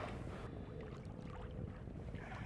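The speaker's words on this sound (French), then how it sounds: "Tu entends toujours le glissement du bateau sur l'eau." A sailboat hull glides through water with a soft, continuous hiss and gentle swishing under light wind, quiet and close.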